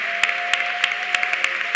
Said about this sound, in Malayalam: പൂർണ്ണ ബലത്തോടെ വക്കോളം കൈയടിച്ച് സ്തുതിക്കാവുന്നവരെല്ലാം കൈയടിച്ച് സ്തുതിച്ച്